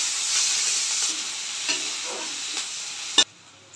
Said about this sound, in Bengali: কুচানো পেঁয়াজ দিলাম। পেঁয়াজটা একটু হালকা লাল করে ভেজে নেব।